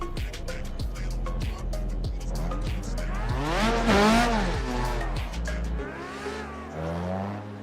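A car drifting in the PC racing game Assetto Corsa, engine revving hard with rhythmic gear-limiter pulses, tires squealing and skidding in the middle before the engine note drops and eases off near the end.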